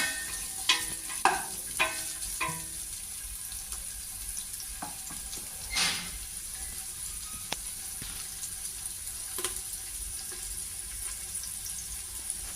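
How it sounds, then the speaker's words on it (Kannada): Onions fry in oil in a pressure cooker, giving a quiet steady sizzle with scattered stirring clicks and scrapes against the pot, close and without speech. "ಈ ಈರುಳ್ಳಿ ಇದು ಸ್ವಲ್ಪ ಎಣ್ಣೆ ಕೆಂಪಾಗೋ ತನಕ ಫ್ರೈ ಮಾಡ್ಕೊಳ್ಳೋಣ"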